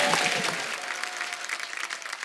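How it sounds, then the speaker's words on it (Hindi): A studio audience at a comedy talk show breaks into loud, dense applause, steady clapping that holds for a couple of seconds before thinning slightly. "जोरदार ताली हो जाए।"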